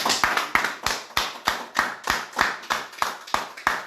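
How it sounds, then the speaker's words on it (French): A church congregation claps together in steady unison, about a dozen sharp, evenly spaced claps ringing out alone without talk. "Acclamons pour la parole."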